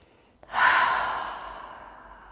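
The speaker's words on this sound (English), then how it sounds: "Take another deep breath in and another sigh of release." A person takes one deep breath in and lets it out in a long, audible sigh during a gentle qigong relaxation exercise. The sigh is close, starts strongly and fades slowly into quiet.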